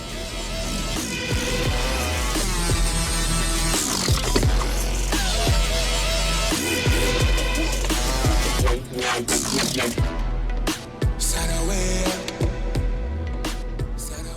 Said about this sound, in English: let me get to putting them on first before I tighten it with the Allen key